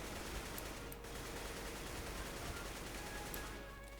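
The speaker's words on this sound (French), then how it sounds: "vous voyez que l'AK en rush, elle tire n'importe où comme ça" Rapid automatic AK rifle fire in the game CS:GO, a dense continuous burst of gunshots lasting throughout, steady and loud with no pauses.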